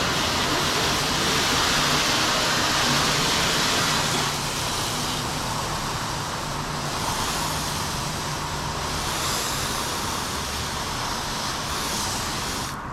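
A hose sprays water over a coated Camaro, giving a steady loud hiss of rinsing that varies slightly in strength across the whole stretch.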